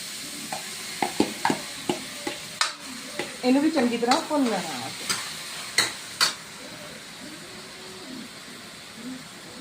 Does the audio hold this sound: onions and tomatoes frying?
yes